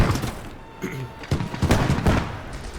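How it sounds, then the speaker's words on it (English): WW2 Eastern Front combat game artillery barrage: a dense, roaring run of overlapping explosions and crackling blasts that swell and keep going without a pause, loud and close. "select the artillery barrage and click on the designated firing area"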